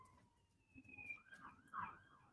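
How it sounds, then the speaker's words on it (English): A passing emergency vehicle's siren wails faintly in the distance, its rising and falling tones sweeping briefly over quiet background noise. "Oh, here's sirens going on."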